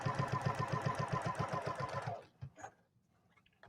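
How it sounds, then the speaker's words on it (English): A sewing machine runs in a fast, steady mechanical rhythm for about two seconds, then stops, leaving a few soft clicks and handling sounds. "I think the sound of a sewing machine is so therapeutic."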